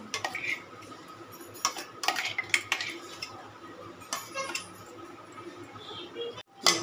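A spoon clinks and scrapes against a bowl while blending a ground almond and milk paste for pineapple ice cream, with soft, irregular taps that come in short clusters and quiet gaps between them.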